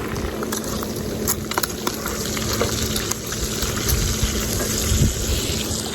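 Bacon sizzling in a pan outdoors by the seaside, a steady dense crackle and hiss with scattered sharper pops, close and continuous, with no talking.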